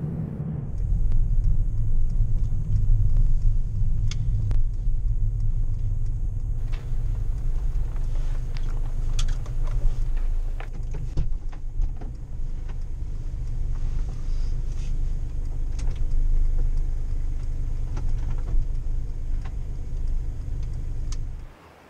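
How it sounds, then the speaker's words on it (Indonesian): A Mercedes-Benz V-Class MPV's small front-mounted turbo diesel pulls under hard acceleration, heard from inside as a loud, steady low rumble. It eases briefly midway, then returns with some clicks and knocks in the cabin. "kami pun injak gas yang dalam untuk merasakan mesin turbonya"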